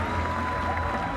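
Crowd applause for cliff diver Gary Hunt at a Red Bull Cliff Diving World Series event, a steady dense wash of clapping held loud and even throughout.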